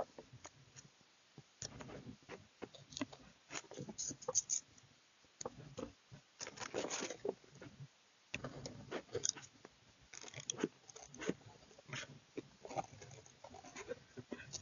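Scissors cut paper while a small tri-fold journal is being made, giving a string of quiet, close, irregular snips and rustles with no talking.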